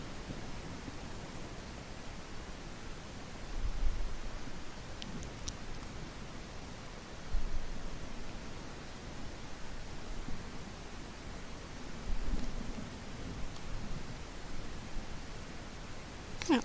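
Steady soft rain hiss in the Day of Dragons video game, a faint even wash with a few slightly louder swells, no talking.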